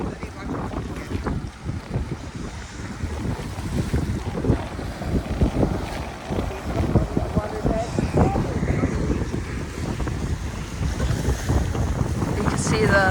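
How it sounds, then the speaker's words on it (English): Storm wind roars and waves churn around a pier, a loud continuous buffeting rush with heavy gusts hitting the microphone and a person talking faintly underneath. "So it is storming."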